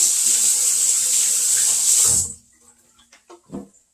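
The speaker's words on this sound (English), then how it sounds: "let me rinse off my hands." A kitchen tap runs hard as hands are rinsed beneath it, a loud, steady hiss of splashing water for about two seconds, then it shuts off and a few soft drips and clicks follow.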